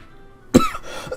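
A single sharp, loud cough bursts out mid-clip from a person with a sore throat, followed by a short raspy tail and a faint throat-clearing catch near the end; otherwise quiet.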